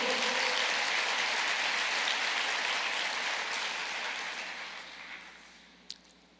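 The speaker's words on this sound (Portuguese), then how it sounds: "Pode aplaudir o Senhor." Steady, dense applause from a church congregation fills the space, holding loud for several seconds before gradually thinning and fading out, with a single sharp click near the end.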